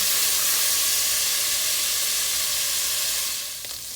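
Epis seasoning hitting hot oil in a pot while cooking Haitian rice with lima beans, giving a steady, loud, continuous sizzle and hiss that holds for several seconds before easing slightly at the end.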